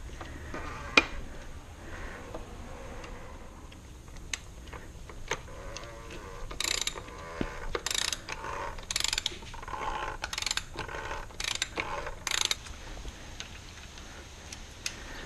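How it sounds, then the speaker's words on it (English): An oil filter cap is ratcheted back into place on a BMW E70 X5 3.0si, with a series of quick clicking ratchet strokes in bursts, close and fairly quiet. "so oil filter going back in"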